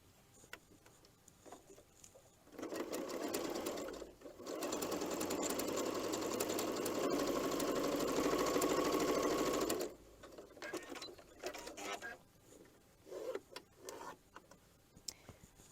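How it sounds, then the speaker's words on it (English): A sewing machine runs in two sustained bursts, stitching 2.5-inch jelly roll strips for a log cabin quilt, with a steady close whir and brief pauses and handling noises between runs. "I'm going to go ahead and sew the rest of these"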